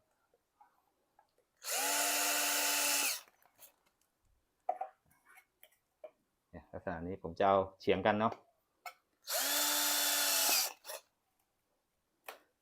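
Two loud bursts of a power drill whirring, each about a second and a half long, drilling to mount a CCTV camera, with someone talking between them.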